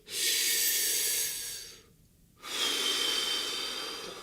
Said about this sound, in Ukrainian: Потім зробити 20 глибоких подихів.